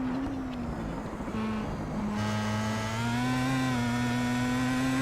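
A Pro Mazda race car in a racing game laps Bathurst with a steady, droning engine note that shifts pitch as gears change, settling into a loud sustained whine, heard alone from the cockpit.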